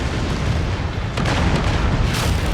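An assault mech blowing up in the video game MechWarrior 5: Mercenaries, a loud, dense rumbling explosion that fills the whole stretch with sustained booming roar and a few sharper bursts.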